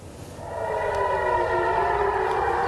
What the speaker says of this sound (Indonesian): Sirine seperti yang kita simak ini pemirsa terdengar meraung